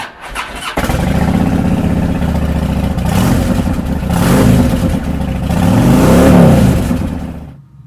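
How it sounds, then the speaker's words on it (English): A 2008 Harley-Davidson FXDL Dyna Low Rider 105th Anniversary with a 96 cubic inch twin cam V-twin starts and idles loudly up close, then revs in a couple of rising and falling swells. "It's powered by a reliable 96 cubic inch V-twin engine, paired to a 6-speed transmission"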